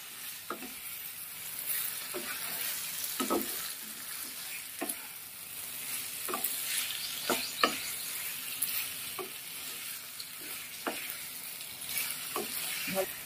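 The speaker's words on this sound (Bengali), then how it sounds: "ভালো করে কষিয়ে নিতে হবে, মশলার কাঁচা গন্ধটা যেন না থাকে।" Ridge gourd, potato and eggplant fry with spices in a pan, giving a soft, steady sizzle broken by repeated scraping stirs of a spatula, close and moderately quiet, with no talking.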